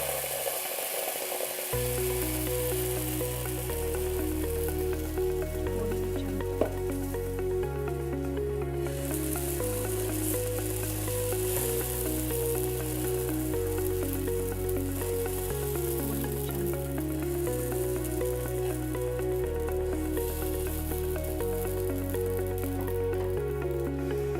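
Banana oatmeal pancake batter fries in an oiled pan, making a continuous close sizzle with soft popping and bubbling that runs on unbroken under faint background music.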